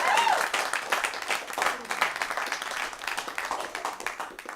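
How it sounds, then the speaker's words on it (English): An audience at an improv comedy show gives a lively round of applause, with dense clapping and cheers that swell and ease, and a voice briefly rising over the start. "Give them a round of applause, everybody."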